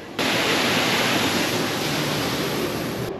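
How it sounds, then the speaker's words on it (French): A waterfall at Disneyland Paris roars as a steady, loud, broadband rush of falling water, close and unbroken, with no voices over it. "Je vais quand même aller voir plus proche de cette cascade."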